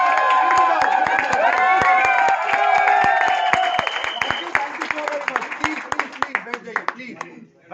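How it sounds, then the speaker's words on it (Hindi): An audience at an office meeting claps and cheers loudly, with bright whistles and whoops over dense applause that gradually thins into scattered individual claps toward the end. "तालियां किसके लिए बजा रहे हो?"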